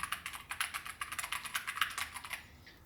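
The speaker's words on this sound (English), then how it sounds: "Currently I'm using Keychron Q1 keyboard with magnetic switches" Rapid, steady keystrokes on a Keychron Q1 keyboard fitted with magnetic switches, crisp clacks repeating for about two and a half seconds before stopping, close and alone with no voices.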